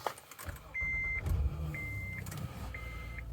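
A 2017 Honda Odyssey Touring Elite minivan starts up nearby. The engine catches with a low rumble and settles into a quiet idle while three short electronic chimes sound in a row.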